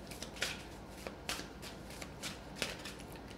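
Oracle cards are shuffled by hand for a tarot reading, giving soft, quick riffling bursts about every half second. The shuffling is quiet and close, with no talk over it.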